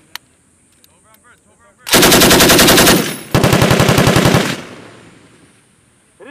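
Loud bursts of machine gun fire during a US Marine expeditionary unit firing exercise: two long, rapid automatic strings, the second ending in a fading echo, preceded by faint shouted commands.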